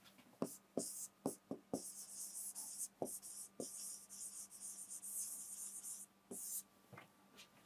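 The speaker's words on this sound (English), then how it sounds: "I am writing it here" Someone writes on a board during a Class 10 science lesson, producing a series of sharp tapping strokes and scratchy scribbles, close and fairly quiet, with long pauses between the strokes.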